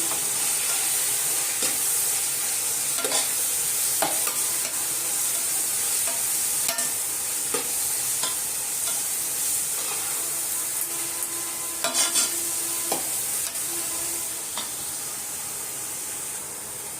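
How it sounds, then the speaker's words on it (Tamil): Mint and coriander leaves are sautéed in a pan while making country chicken biryani. A steady sizzling hiss is heard close up, with scattered clinks and scrapes of stirring. "ஒரு புடி புதினா ஒரு பொடி கொத்தமல்லி சேர்த்தாச்சு நல்லா வதக்கி விட்டுடலாம்"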